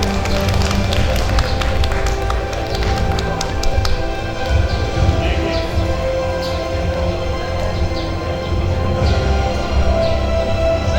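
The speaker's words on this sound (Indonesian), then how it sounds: "Tepuk tangan Bapak Ibu." Audience of a meeting clapping together, a dense steady patter of many hands sustained throughout at close to moderate distance, with scattered sharper individual claps.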